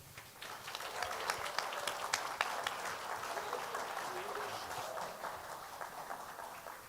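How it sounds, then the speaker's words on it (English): Audience applause for hackathon finalists at a live tech event, a steady wash of many hands clapping with scattered louder claps and some voices mixed in, sustained at moderate loudness throughout. "let's give one last round of applause for all of our hackathon finalists"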